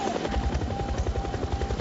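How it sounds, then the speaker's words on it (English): Helicopter passing in an animated scene, a loud rhythmic rotor chop with a thrumming low pulse and a faint whine on top, steady and close. "the helicopter kept going"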